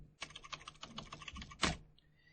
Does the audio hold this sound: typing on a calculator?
yes